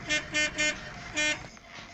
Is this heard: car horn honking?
yes